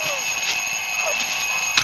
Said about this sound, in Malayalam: അലാറം.